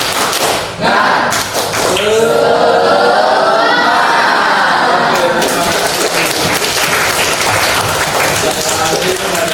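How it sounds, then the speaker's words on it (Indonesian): Students clap their hands together in a classroom cheer, rhythmic bursts of clapping mixed with shouted, chanting voices, loud and close, followed by continued clapping and chatter. "Sebelum kita akhiri materi hari ini, kita bertepuk tangan."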